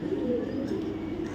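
A male racing pigeon coos softly and continuously, close by, a low throaty murmur over light background noise.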